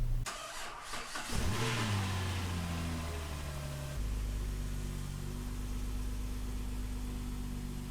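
A 2010 Dodge Caravan's engine cranks and catches, revs up briefly, then drops into a steady close idle that hums on, just after valve cover gasket work.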